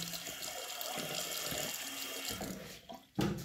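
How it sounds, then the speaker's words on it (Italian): Hot tap water runs into a sink for a rinse before shaving, a continuous close hiss and splatter that cuts off near the end, followed by a soft knock. "Iniziamo a farci una bella sciacquata con l'acqua calda."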